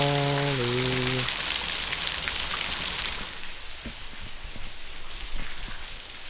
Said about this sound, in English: That is a lot of rain